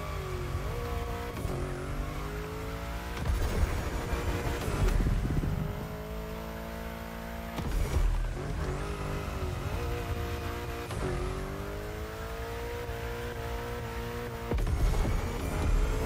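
A car drifting in the racing video game The Crew Motorfest: a steady revving engine with repeated gear shifts and throttle lifts, continuous and loud, with faint tire squeal through the bends.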